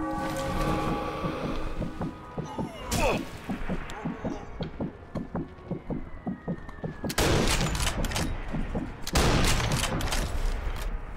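Rapid bursts of gunfire crackle in quick rhythmic strings, with a couple of louder blasts of heavy fire, close and sharp over a busy background, in the video game Sniper Elite V2 Remastered.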